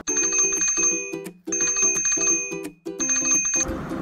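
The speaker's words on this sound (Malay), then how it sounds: "Serigala mengambil loceng itu lalu membunyikan sekuat mungkin." A small hand bell is rung hard by a wolf in a children's story, three bursts of bright, rapid ringing with short pauses between, ending in a rustling clatter.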